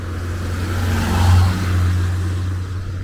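A car drives past on a road near a park entrance, its engine hum rising to a peak around the middle and fading as it goes by, close and fairly loud with no talking.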